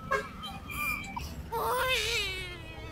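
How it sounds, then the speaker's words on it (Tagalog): An infant cries in a short film scene on a bridge, with wavering high wails rising and falling over a couple of seconds, moderately near, over a low background rumble. "Parang naririnig akong iyak ng bata."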